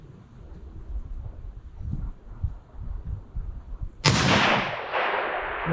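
A 300 Win Mag sniper rifle fires once outdoors, a loud, abrupt blast after a few seconds of low rumble and soft movement, with a long rolling echo trailing away.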